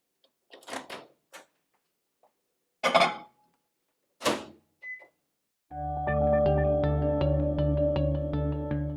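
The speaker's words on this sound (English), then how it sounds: "we're going to melt that in the microwave for just a few minutes" Sharp clicks and clunks of a door and buttons give way to the steady, droning hum of a microwave oven running while melting chocolate.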